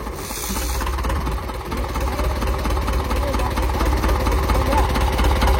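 A boat motor drones with a steady, throbbing low rumble that stays close and constant throughout, with some talk in the background.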